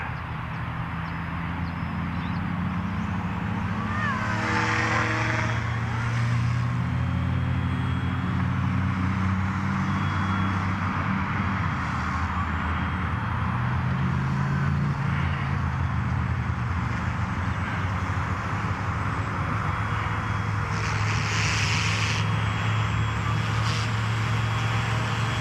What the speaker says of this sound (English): Brilliant little helicopter.